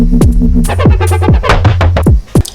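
A synth bass step with punchy drum hits, swooping pitch-dropping bass notes and a steady low bass tone, looping in a tight, loud groove with no voice.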